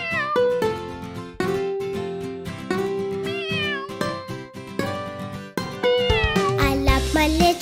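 A cartoon kitten meows in a children's nursery rhyme, its short rising and falling cries sitting over bright, steady music with piano-like chords throughout.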